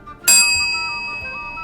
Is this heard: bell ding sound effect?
yes